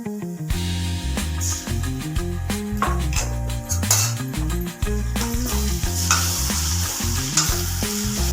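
Soya chunks Manchurian tossed in a pan with red chilli sauce, a steady loud sizzle of frying with repeated scraping and stirring strokes throughout, no voices.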